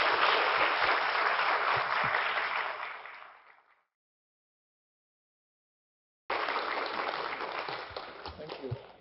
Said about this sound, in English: let's give the warmest and the biggest applause for Professor Wüthrich one more time.